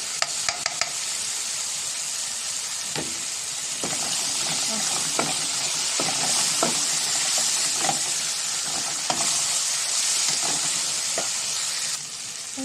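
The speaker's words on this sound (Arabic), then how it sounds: "قلبت الصلصه بس والطماطم بقى كمان مع بعض" Tomatoes and tomato paste stirred in a sizzling pan for a shrimp casserole, a steady frying hiss with scattered spoon scrapes and clicks throughout, no talking.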